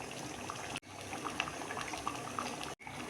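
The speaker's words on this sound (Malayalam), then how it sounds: "പുഴുക്ക് വെന്ത് വന്ന് തുടങ്ങിയിട്ടുണ്ട്." Thiruvathira puzhukku of chickpeas and beans, with turmeric and salt, simmering in a covered pot: faint, steady bubbling that is briefly cut off twice.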